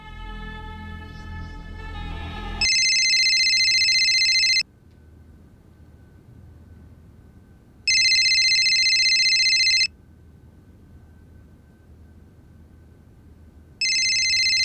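A telephone rings in bright, shrill bursts, three rings of about two seconds each separated by quiet gaps, sounding alone over a low hum after a brief musical sting.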